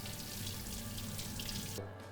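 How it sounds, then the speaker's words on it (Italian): Cold tap water runs steadily into a sink while a piece of veal for vitello tonnato is rinsed under it. The broad, even stream is close and constant and cuts off abruptly near the end, with no talking. "Andiamo a dargli una sciacquata in acqua fredda in modo da togliere la parte superiore di sangue."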